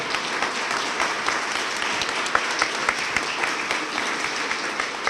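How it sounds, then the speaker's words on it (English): A crowd applauds steadily at a business awards event, a dense wash of clapping that holds evenly from start to finish. "Give everybody a round of applause for that."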